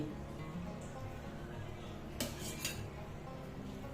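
A spoon stirs sugar into a pot of vegetable curry over a low background hiss, with two distinct metallic clinks against the pot partway through.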